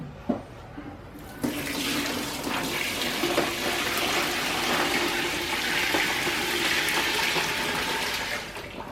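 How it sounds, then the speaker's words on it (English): Brine pours in a steady, continuous stream over a chicken for several seconds after a couple of faint knocks, then tapers off at the end. "So I'm actually going to pour it right on top of the chicken."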